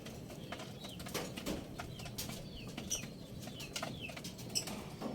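Racing pigeon at a loft during a race, giving soft low coos with brief bursts of wing flapping over quiet outdoor background, fairly close.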